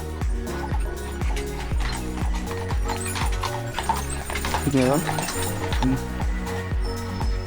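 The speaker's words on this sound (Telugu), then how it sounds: "గుర్రం వస్తుంది చూడండి" Rhythmic clip-clop of horse hooves on a path at Partnachklamm gorge in Germany, with a brief whinny midway and people talking over it.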